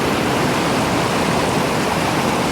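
A waterfall along a Washington State creek flows strongly, a loud, dense, unbroken rushing roar that stays steady from start to finish.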